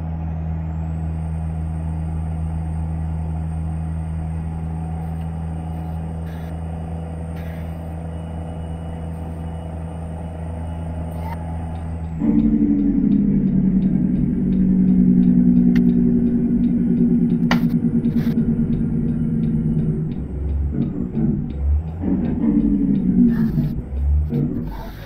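A truck in American Truck Simulator, its engine a steady low idling rumble before it pulls away into louder, grinding road and engine noise, with short hissing bursts and clunks as it gets moving.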